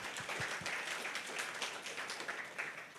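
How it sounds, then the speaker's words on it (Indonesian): A church congregation applauds during a Pentecost worship service in a hall in North Jakarta, producing a steady, moderately faint wash of clapping that holds for the whole stretch. "Yang mau boleh tepuk tangannya bagi Tuhan kita"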